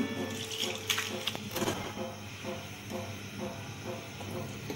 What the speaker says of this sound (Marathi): याच्यामध्ये थोडंसं आणखीन पाणी घालून घेतलं मी